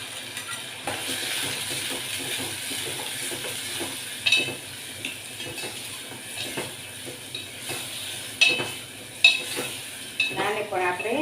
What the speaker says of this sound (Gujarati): પછી આ બધો મસાલો અંદર નાખી દઈશું.